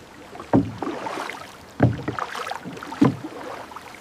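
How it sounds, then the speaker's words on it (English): A paddle strikes and pulls through river water in three evenly spaced strokes, each a close splash and swish followed by a quiet glide. "Start paddling."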